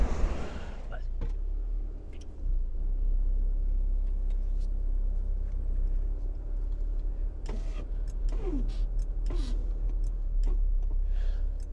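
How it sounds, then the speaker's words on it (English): A car drives along a new link road between Blackpool and Lytham, a steady low engine and road rumble heard from inside the cabin with a few faint ticks and clicks; someone talks briefly. "I'm going to be driving down there right now."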